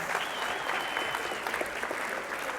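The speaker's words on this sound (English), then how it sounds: "there should have been an applause." Audience applause breaks out at a talk, a steady dense clapping from a crowd that holds evenly for a few seconds with no one speaking over it.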